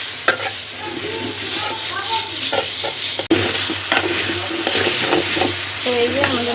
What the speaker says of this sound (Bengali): দেখেন কত সুন্দর করে লাড়ালাড়ি করতেছে